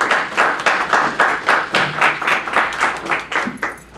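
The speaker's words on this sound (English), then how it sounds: "All right, another round of applause, Chris." An audience at an alumni reading applauds steadily, with dense clapping from many hands in a room that holds through to the end, without any talking.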